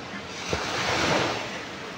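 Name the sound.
sea waves at the shore in Guam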